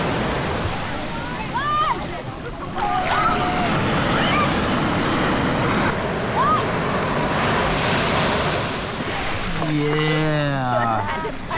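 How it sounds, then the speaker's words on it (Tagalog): Strong ocean waves surge and break at a beach in Puerto Galera, a loud, continuous roar that swells and eases, while voices call out and talk over it. "Lakas ng alon."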